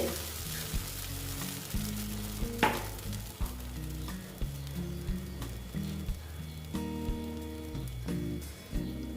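Batter frying in a pan on low heat, a steady soft sizzle under light scraping and clinking, with background music running throughout.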